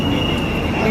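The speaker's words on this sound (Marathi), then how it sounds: "तर ही आहे पुण्याची एकदम भारी मेट्रो. आम्ही आहे ॲक्वा लाईनमध्ये." Steady rumble of a Pune metro train in motion on the Aqua Line, heard from inside a crowded carriage, with a constant high tone over the running noise.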